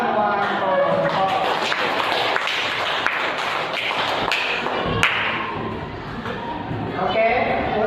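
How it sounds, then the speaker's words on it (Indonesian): A classroom of students gives a round of applause for the group presentations during an Indonesian-language lesson, with scattered claps and thuds mixed under nearby voices talking throughout. "silakan berikan tepuk tangan untuk semua kelompok"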